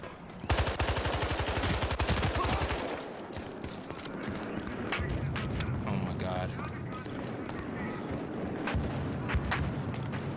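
Rapid bursts of gunfire from Battlefield Hardline multiplayer on Xbox One ring out loud and close for the first few seconds, then give way to scattered single shots and clatter under ongoing game noise.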